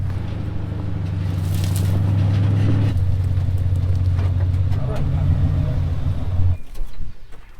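A Ram truck eases over a steep edge off-road with a deep, steady engine rumble that swells, then drops off near the end, while voices talk over it.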